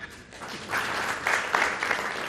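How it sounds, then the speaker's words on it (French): Audience in a conference hall applauding after a guest is introduced, clapping building up and holding steady for a couple of seconds. "Je vous demande d'applaudir."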